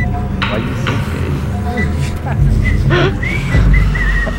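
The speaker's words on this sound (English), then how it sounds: "I like how someone's whistling." A character whistles a thin, wavering tune in the zombie shooter Left 4 Dead, with short rising and falling notes running through steady game noise and voices talking over it.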